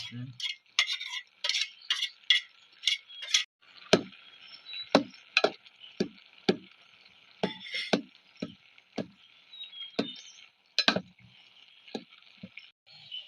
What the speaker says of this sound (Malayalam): ഇളക്കി കൊടുക്കണം അല്ലമ്മ